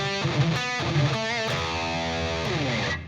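Electric guitar with distortion, played with hybrid picking in quick repeated phrases of sustained, harmonically rich notes that ring out loud and alone.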